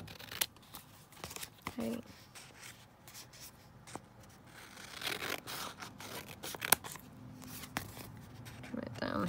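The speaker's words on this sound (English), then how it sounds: "So let's just trim that down a bit." Scissors snip repeatedly through handmade washi tape, producing sharp, close cutting clicks and light paper rustling spaced irregularly, with a voice speaking briefly.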